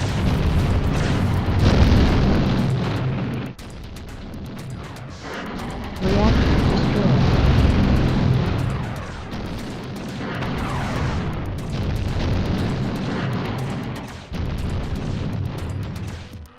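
Rumbling, booming reactor explosion in a video game, a loud sustained roar of blasts and debris that surges and drops in waves over many seconds, with a voice speaking at times beneath it.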